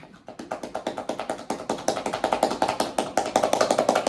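Rapid hollow cupped-hand tapotement slaps on the skin of the legs, a fast steady patter of popping taps that grows slightly louder, close up with no talking.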